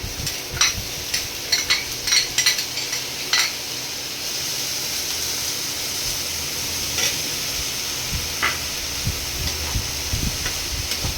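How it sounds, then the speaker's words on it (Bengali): Chopped onion frying in a little oil in a hot pan gives a steady sizzle, with a run of sharp clinks and scrapes from a spatula early on and a few later, no voices. "পেঁয়াজ কুচিটা দিয়ে দিলাম"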